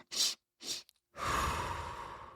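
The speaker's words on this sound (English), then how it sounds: "You take 2 small inhales through your nose and then 1 big exhale through your mouth" A calming breathing exercise, heard close up: two short sharp sniffs in through the nose, followed by one long, slow, breathy exhale through the mouth that gradually fades.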